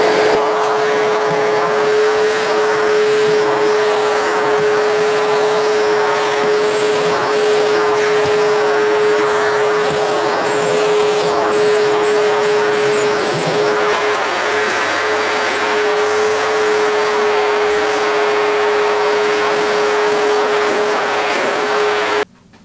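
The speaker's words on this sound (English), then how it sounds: "I'll just see what it's like vacuuming them up." A V-Tuf Mighty XL M-class dust extraction vacuum sucks up wood chippings and dust, a loud continuous motor whine with a steady tone, cutting off at the very end.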